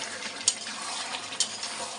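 Mutton being stirred and sautéed in a pan, a steady close sizzle with two sharp spoon clinks against the metal spaced about a second apart.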